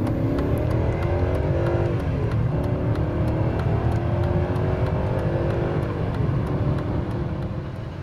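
A BMW E39 540 with its V8 pulls hard under acceleration during a performance run, the engine note climbing steadily through the revs as a loud, continuous drone that eases slightly at the end.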